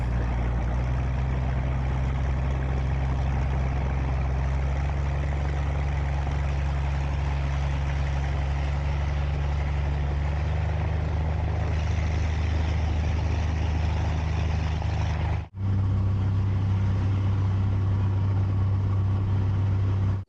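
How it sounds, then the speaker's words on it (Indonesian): Engine of a river taxi boat on a Kalimantan river, a continuous low droning rumble running steadily and loud, briefly cutting out near the end before resuming, with no voices. "Mesin taksinya di stop dulu"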